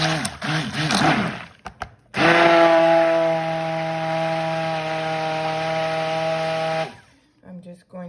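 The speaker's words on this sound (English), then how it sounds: "I'm just going to go ahead and blend these additives into the oil" A handheld blender whirs steadily as it mixes additives into a soap oil blend of coconut oil, rice bran oil, shea butter, beef tallow and castor oil, a loud buzzing motor for several seconds with a voice talking before and after.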